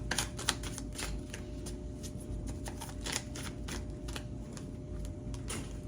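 A deck of cards is shuffled by hand, a steady close riffling and flicking that runs continuously for several seconds, with no speech.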